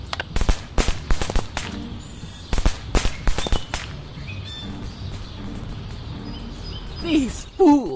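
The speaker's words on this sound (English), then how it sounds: "have you ever seen a greater fireworks display?" Sharp cracks and pops burst in quick clusters, then thin out to scattered bangs with a rising whistle-like tone near the end: a fireworks display in the video game Scary Teacher 3D.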